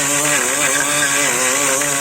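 Honda CB1000R motorcycle engine revving through its original stock exhaust, a loud, steady buzzing drone with rising and falling pitch sweeps, close and continuous with no talk.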